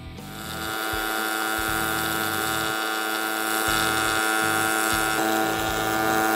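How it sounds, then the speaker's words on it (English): A welding torch heats thick steel top plate on a custom oil tank, a steady hissing roar with a low humming drone that pulses in uneven bursts underneath, no talking. "I've really got my torch pointed more towards that thicker top plate"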